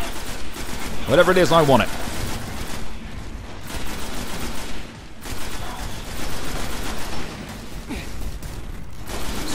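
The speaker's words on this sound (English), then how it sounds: "He's got like a mortar gun or something." An enemy mortar gun fires in Destiny amid the Garden's Spire on Mars, with dense rattling gunfire and booming impacts running throughout; someone talks over the din.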